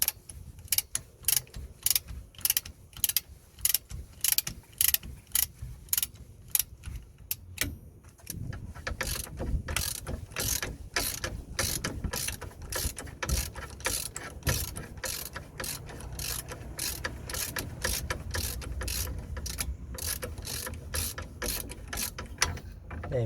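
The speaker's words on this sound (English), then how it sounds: "So it's a 16mm socket we need to use to undo these 4" Hand ratchet with a 16mm socket undoing nuts on a Vauxhall Opel Zafira B rear brake disc splash guard, a close, steady rapid clicking that starts in short spaced bursts and then runs almost continuously.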